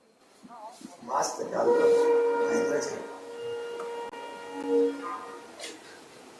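A train horn sounds from locomotives built at Banaras Locomotive Works for Mozambique as they depart a flag-off ceremony. It gives a steady, sustained tone for about a second and a half, then a shorter blast, amid outdoor crowd noise.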